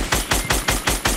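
Rapid bursts of sniper rifle fire in Fortnite, about six loud, evenly spaced cracks roughly a fifth of a second apart, each one close and sharp with no talking over them.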